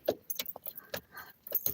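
Keys jangle as they go into a car's ignition at night. Several short, close metallic clinks and rattles come in quick bursts, with no voice heard.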